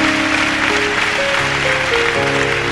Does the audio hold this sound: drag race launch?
no